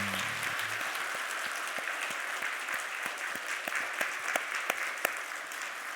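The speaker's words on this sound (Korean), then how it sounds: "이 자리가 박수 소리 때문에 따뜻해지도록 우리 힘차게 옆에 분" A church congregation at a Korean Sunday service applauds warmly, a continuous steady wash of clapping with a few crisp individual claps sharpening toward the end.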